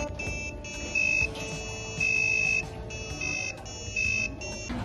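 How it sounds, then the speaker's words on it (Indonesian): An electronic buzzer on a microcontroller parking-card project plays a sequence of short, shrill programmed tones in repeated bursts with brief pauses between notes. "berikut hasil pengerjaan buzzer."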